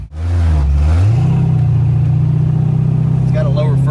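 Ford Fox-body car with a built AOD automatic transmission carrying 4R70 internals, engine running loud and close during a test drive, rising in pitch as it revs, then holding a steady droning note.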